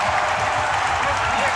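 A baseball stadium crowd at a World Baseball Classic game between Chinese Taipei and Czechia roars and applauds in a steady, dense wash of cheering, with a broadcaster's voice talking over it.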